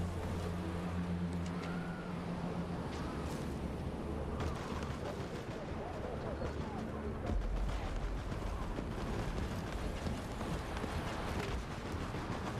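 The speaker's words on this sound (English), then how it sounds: "Oh no, someone has a grenade launcher." Heavy explosive blasts and rumbling gunfire from a grenade launcher in the video game The Forever Winter, dense and continuous, with booming low thuds rolling under a noisy battlefield and no voices.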